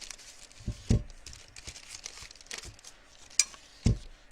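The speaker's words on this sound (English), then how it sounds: "And then we'll pull the tape off." Tape is peeled off a tumbler during pearl swirl crafting, with faint crinkling and tearing plus a few louder crackles and bumps, close and quiet with no speech.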